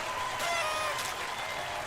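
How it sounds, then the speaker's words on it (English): Courtroom crowd in a video game trial scene bursts into applause and cheering after a not-guilty verdict, a steady dense wash of clapping and voices lasting the whole moment. "And the crowd goes wild."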